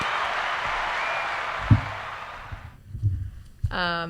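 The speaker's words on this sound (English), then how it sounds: "You get some applause for that." Dense, broadband crowd applause and cheering that fades out over a few seconds, followed by a brief quiet stretch and a voice beginning to speak.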